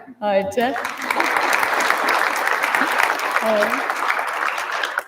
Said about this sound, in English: definitely a round of applause for him